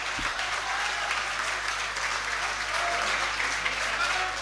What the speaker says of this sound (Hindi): जोरदार तालियां दोस्तों